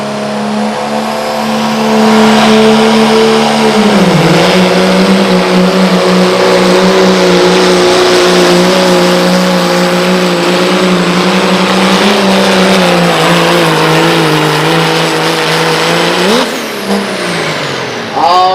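Diesel pickup at a truck pull event winds up to a loud, sustained roar, the engine note dipping briefly then holding steady under heavy load before a final rev surge near the end, close and continuous.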